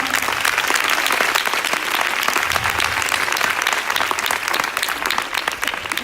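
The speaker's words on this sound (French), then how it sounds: "Donc un énorme tonnerre d'applaudissements" An audience breaks into loud, sustained applause at a corporate event, dense clapping from many hands continuing evenly for several seconds.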